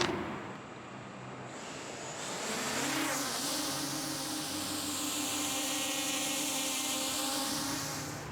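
A Rekon 6 long-range FPV drone hovers on its first test flight. Its motors give a close, steady whine that swells and bends in pitch as it holds position, with no voices.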